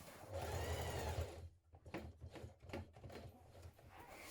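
A sewing machine stitches along the edge of a backpack panel. A steady hum runs first, then it breaks into a run of quick, separate stitching bursts. It is close and there is no talking.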